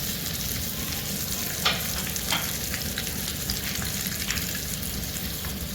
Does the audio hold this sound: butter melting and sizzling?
yes